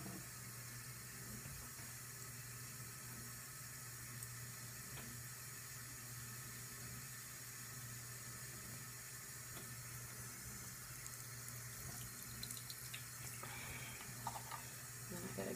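Running tap water pours steadily while makeup brushes are washed under it, a soft, even, close hiss with faint rubbing and splashing near the end, quiet and with no voices.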